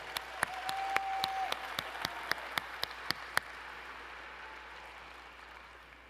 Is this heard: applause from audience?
yes